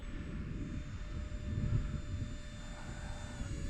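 A micro electric ducted fan RC jet flies overhead, a steady whining fan hum with a faint tone, swelling slightly as it passes, outdoors with background noise.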